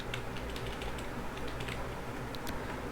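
Keystrokes tapping on a computer keyboard while writing PHP code, a steady run of light clicks across the whole stretch over a low background hum, fairly quiet and close.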